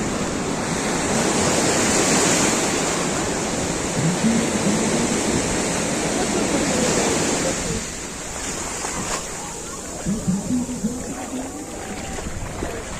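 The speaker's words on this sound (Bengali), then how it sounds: "বিশাল ঢেউ হচ্ছে, বিশাল।" Big sea waves surge and crash onto a sandy beach close by, a continuous loud roar of surf and wash with wind, barely easing toward the end.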